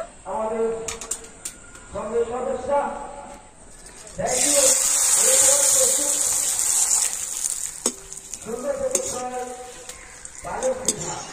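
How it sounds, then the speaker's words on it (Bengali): Homemade potato chips go into hot white oil in a pan, setting off a loud, steady sizzle and hiss that swells midway, with stirring clinks and a voice talking over parts of it. "তেল কিন্তু খুব ভালো মতো গরম হয়ে গিয়েছে, আর এখন আমি চিপসগুলো ভেজে নেব"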